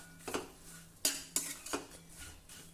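A utensil scrapes and clinks against a pan as ivy gourd is stirred together with roasted sesame and peanut powder, four or five short quiet strokes, close by.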